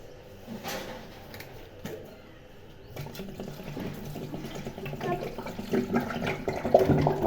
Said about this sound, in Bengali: এবার জল ঢেলে দেবো আমি ইউপিতে